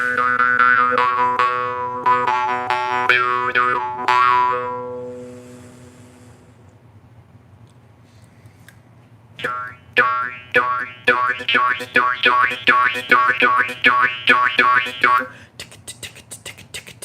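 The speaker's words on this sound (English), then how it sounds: "We'll play one more Morchang" A morchang jaw harp plays twangy, buzzing notes: first a run of sustained resonant plucks, a quiet pause, then a quick rhythmic series of sharp percussive twangs with shifting vowel-like overtones, close and alone.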